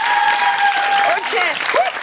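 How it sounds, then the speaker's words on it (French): Studio audience of a French television talk show applauding loudly, a dense steady clapping wash over two seconds with a brief tonal squeal and a voice faintly audible beneath. "on peut l'applaudir très très fort"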